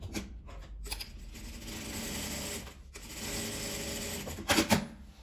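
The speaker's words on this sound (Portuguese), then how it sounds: "Vai tirando os alfinetes e vai costurando." A sewing machine stitches a patchwork pouch in a steady, continuous mechanical whir with a rapid needle rhythm, briefly pausing twice, then running on with a few louder clunks near the end.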